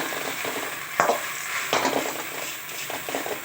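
Green chillies and vallarai leaves sauté in a pan for a traditional thuvaiyal, a dense close sizzle broken by a couple of sharp scraping stirs.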